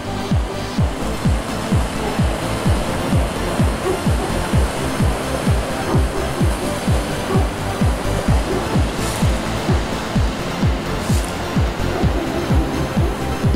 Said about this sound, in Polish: Czychowice Kłodzkie, rzeka Białolądecka, wodospad